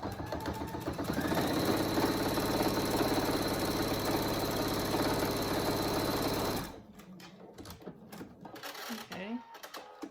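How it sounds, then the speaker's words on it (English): A sewing machine runs a continuous straight stitch across fabric for a pet ramp cover, a loud rapid mechanical whir lasting several seconds before stopping, followed by light handling of the cloth. "Now you're going to just straight stitch all the way across"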